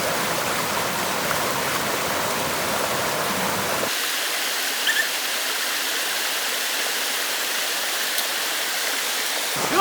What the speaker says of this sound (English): First legit water crossing, and the rain has not helped the flow and the pace of this water.